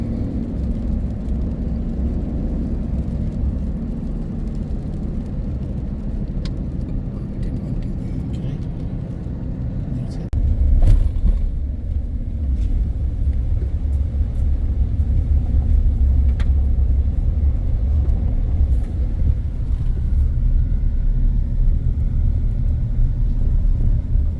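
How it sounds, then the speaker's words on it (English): A big truck towing a big boat rumbles along with steady low road noise, growing rougher and heavier partway through on washboard road, with occasional rattles and bumps. "It's not as much fun when you're driving a big truck and towing a big boat"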